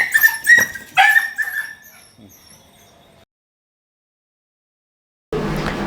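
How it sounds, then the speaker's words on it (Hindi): Stray dogs bark in a residential street, a burst of several sharp barks and yips up close that fades into quieter whimpers, followed by silence and then a different noisy stretch. "भाई कुत्ते घुस जा रहे जिधर बने उधर घरों में"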